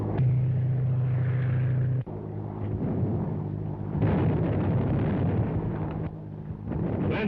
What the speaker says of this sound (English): Landing tear gas bombs all around them, but they don't seem to have any effect.